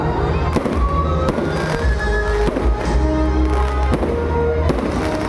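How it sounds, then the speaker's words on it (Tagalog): Fireworks bursting outdoors at the plaza in Bangued, Abra, during an opening of lights, repeated loud booms and crackles over a continuous crowd-like din, several blasts in a few seconds. "Grabe! Fireworks."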